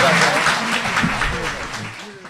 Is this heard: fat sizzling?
no